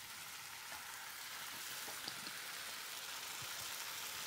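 A tin of tomatoes tipped into a pan of onions frying with allspice for a Mexican Veracruz-style dish, giving a steady, soft hiss and sizzle with faint crackles throughout.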